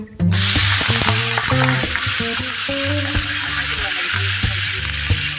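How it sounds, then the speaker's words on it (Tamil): Whole spices for beef biryani, cinnamon, cloves, cardamom, bay leaf and star anise, hitting hot oil with a sudden loud burst of sizzling, then crackling on steadily while a utensil clinks and scrapes against the pot. "எண்ணெய் சூடான உடனே நம்ம பட்டை, கிராம்பு, ஏலக்காய், பிரிஞ்சலை, அன்னாச்சி பூ எல்லாத்தையுமே இப்போ சேர்த்துக்கிறோம்"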